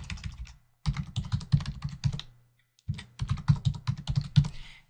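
Fingers typing a password on a computer keyboard, two bursts of rapid clattering keystrokes close to the microphone, separated by a brief pause, with no talking.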